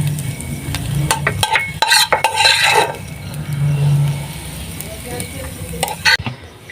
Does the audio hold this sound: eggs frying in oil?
yes